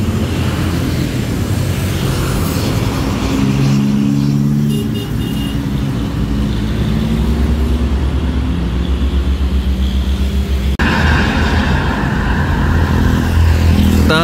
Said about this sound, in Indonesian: Terpantau teman dari kejauhan ada bis Herianto. Wisos melintas di RM Aroma Cirebon.